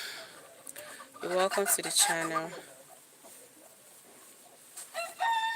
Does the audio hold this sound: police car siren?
no